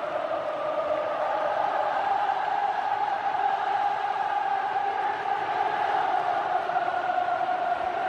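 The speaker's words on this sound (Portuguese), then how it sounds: "o canto da torcida." Football supporters at an Argentina versus Brazil World Cup 2022 match, with Brazil fans singing together in the stadium stands: a steady, dense wash of massed chanting voices held at an even level throughout, with no pauses.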